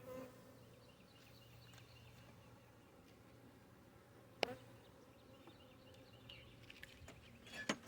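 Honey bees buzzing steadily around an active hive in January, a faint continuous drone with a couple of sharp taps and small knocks near the end.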